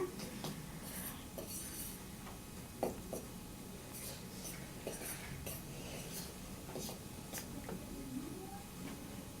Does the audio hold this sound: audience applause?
no